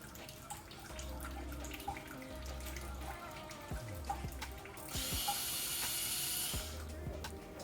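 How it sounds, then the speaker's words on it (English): A dishwasher runs quietly with intermittent mechanical clicks and a low hum, then a burst of rushing water sprays for a couple of seconds. "don't mind the noise, the dishwasher is on"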